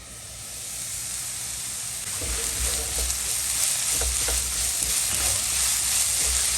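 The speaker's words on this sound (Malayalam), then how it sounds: "ഇനി നന്നായി ഒന്ന് ഇളക്കി കൊടുത്ത് ഒന്ന് അടച്ചു വെച്ചൊരു അഞ്ചെട്ട് മിനിറ്റ് വേവിക്കാം" Masala filling for puffs cooking in a pan, a loud continuous sizzle and hiss with scraping stirring strokes, close by and without speech.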